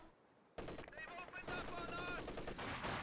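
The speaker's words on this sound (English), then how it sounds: "MG34 firing away, suppresses down the Dishka" Rapid MG34 machine-gun bursts in a Company of Heroes 2 battle, loud and sustained with overlapping rattling fire after a quiet opening, dense gunfire continuing to the end.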